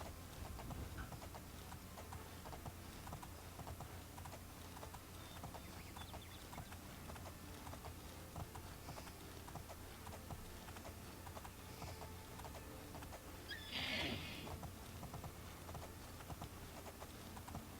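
Horse hooves clip-clop steadily in Oblivion, quiet and continuous over game ambience, with a brief brighter clatter near the end.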